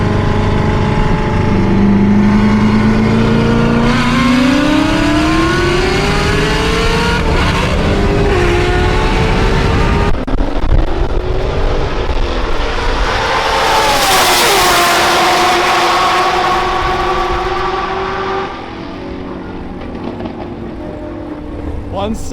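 A C6 Corvette ZR1 with about 940 wheel horsepower drag races a twin-turbo Dodge Hellcat, loud close engines roaring and climbing through gears in rising sweeps, then a blast of wind rush as the cars pass, with voices faintly under the noise.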